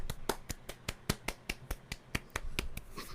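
A dozen or so sharp hand claps in an uneven rhythm, close and crisp, with faint room noise between them and no talk.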